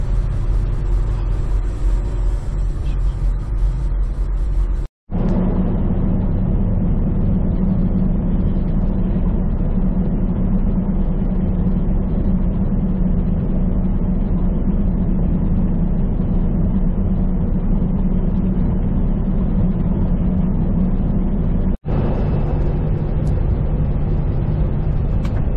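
A car cruising along a long straight road, a steady, unbroken low engine and tyre rumble with constant road noise, interrupted only by two brief dropouts.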